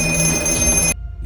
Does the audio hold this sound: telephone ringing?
yes